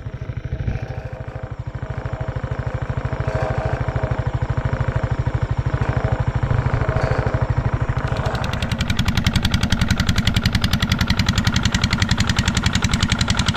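A farm machine's engine runs in a rice field during the palay harvest, a close, loud, steady chugging with a rapid even pulse that grows harsher and more rattling partway through, with no talk.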